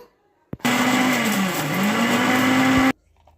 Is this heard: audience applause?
no